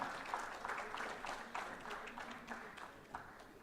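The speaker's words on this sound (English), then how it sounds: "Give them a huge round of applause, everyone." Faint, fairly sparse audience applause for a panel at a brand event, with distinct individual claps standing out of a soft, thinning patter.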